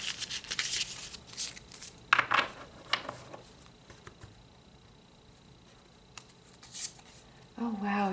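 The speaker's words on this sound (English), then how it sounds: "So let's pull some more cards." Tarot cards are shuffled with soft papery riffles and flicks in irregular bursts, close by, under a voice talking intermittently.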